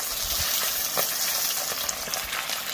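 Fish coated in mustard fries in overheated oil with a steady, close crackling sizzle that fills the clip, broken by small pops and spits.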